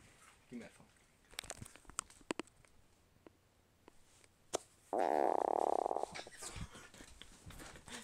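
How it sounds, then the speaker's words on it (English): A person lets out a close, low buzzing fart lasting about a second amid scattered handling noises and chatter from a small group. "You guys want to hear me fart?"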